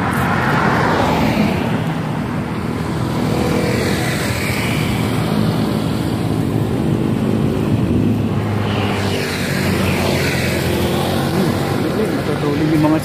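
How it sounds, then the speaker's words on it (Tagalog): Vehicles stream past on a highway, a continuous loud roar with broad swells as cars and trucks go by close, a voice talking over the traffic. "mga sasakyan."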